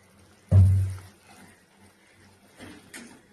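Water poured into a pan of cooked-down spices for a koi fish curry, a short burst of splashing pouring lasting about half a second, then a second smaller pour, close and fairly loud.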